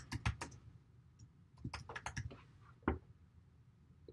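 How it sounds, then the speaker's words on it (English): Someone types on a computer keyboard, with quiet, irregular keystrokes in short bursts and a louder key press near the end. The sound is close and soft, and no one speaks. "Then you can just type in right there."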